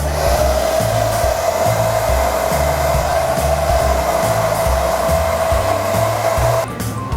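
A hair dryer blows continuously with a steady high whine and rushing air, close up, while styling a bob haircut, shifting slightly in pitch near the end.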